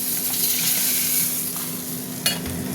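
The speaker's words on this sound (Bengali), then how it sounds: "পেঁয়াজটা একটু ভাজা ভাজা হতে থাক।" Onions sizzle steadily in hot oil in a pan, a close continuous frying hiss with a brief clink near the end.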